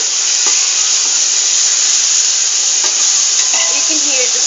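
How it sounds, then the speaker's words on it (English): Onions and garlic paste sizzle steadily in hot oil for Punjabi kadhi pakoda, a loud, continuous close crackle with occasional stirring scrapes and no talk. "You can hear the sound of the onions crackling up with garlic."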